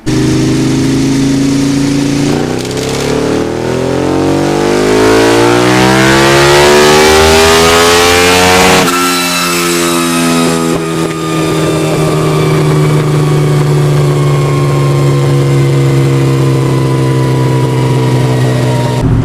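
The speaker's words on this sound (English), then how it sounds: "So the first bike up on the dyno is the EBR 1190RX." An EBR 1190RX superbike engine roars loud and close on a dyno, climbing steadily through the revs in one long pull, then a shift into a higher, sustained rising wail.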